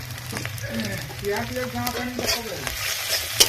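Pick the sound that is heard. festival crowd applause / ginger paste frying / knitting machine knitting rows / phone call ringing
ginger paste frying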